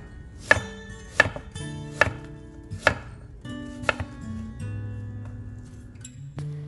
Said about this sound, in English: cut each slice lengthwise into 1 cm thick pieces